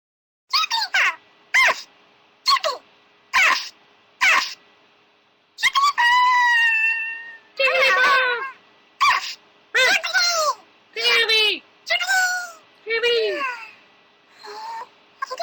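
A human voice imitates the Jigglypuff Pokémon with a string of high, squeaky, sing-song yelps and wails in short bursts, loud and close, with brief pauses between them.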